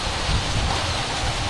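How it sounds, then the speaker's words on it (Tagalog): Heavy rain pours down in a dense, loud, unbroken roar with no voices, a continuous wash of falling water. "Ang lakas ng ulan guys."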